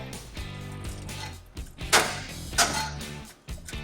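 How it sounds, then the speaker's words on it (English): A pry bar works against a weld nut under a 2006 Acura MDX during trailer hitch installation, with creaking metallic strain and two sharp cracks as the nut gives way, heard close up. "the weld nut wasn't usable, so we're going to break it out with this pry bar right here"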